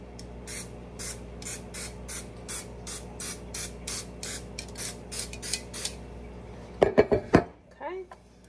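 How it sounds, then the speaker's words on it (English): Pam cooking spray sprayed onto a cupcake pan in a series of about a dozen short hissing bursts in steady rhythm, followed by a few loud metallic clatters of the pan. "Spray it with some Pam."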